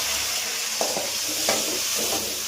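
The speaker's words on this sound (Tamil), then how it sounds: "தக்காளியும் வெங்காயமும் இப்போ வந்து தக்காளியும் வெங்காயமும் வந்து நல்லா ஃப்ரை ஆகணும்." Chopped onions and tomatoes fry in a pan, a loud steady sizzle with a few scraping stirs of the spoon breaking through.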